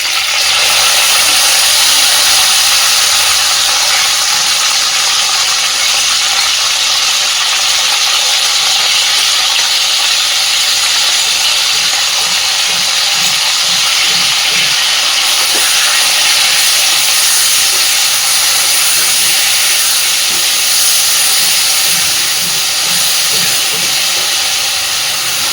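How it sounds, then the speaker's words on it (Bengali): Ground paste of tomato, onion, garlic and a little ginger sizzling in a pan with potatoes and fat, a loud, steady, close hiss lasting throughout without talk. "সেই বেটে নেওয়া মশলাটা এবার আমি এর মধ্যে দিয়ে দিচ্ছি।"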